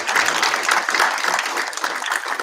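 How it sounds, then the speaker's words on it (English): Applause at a township council meeting, a dense, steady burst of clapping from the room that holds evenly loud throughout. "If you can give them a round of applause."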